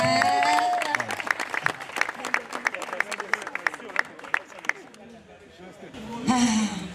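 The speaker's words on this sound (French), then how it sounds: "Applaudissez." An audience applauds on a talent-challenge TV show stage, steady rhythmic clapping for about five seconds under loud voices, which rise again as the clapping ends.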